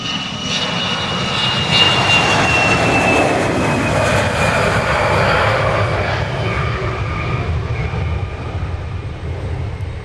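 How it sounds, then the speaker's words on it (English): A small business jet takes off from a runway at Dallas Love Field, its engine roar loud and sustained throughout with a rising whine, steady and close with no pause. "that took a lot more runway than most of these little biz jets"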